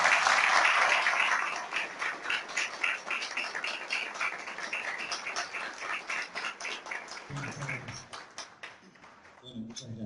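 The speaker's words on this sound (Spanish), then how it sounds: "Lo recibimos con un fuerte aplauso, Iván Fina." An audience at a memory and identity festival applauds a guest, with loud dense clapping at first that settles into a long, uneven patter and thins out near the end, with a voice briefly heard.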